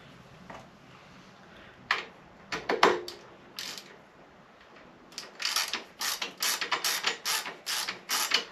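A bolt being tightened on a Triumph Street Twin 900 pannier mount, with quick ratcheting clicks in short bursts and then a longer run of rapid clicks, close and fairly loud.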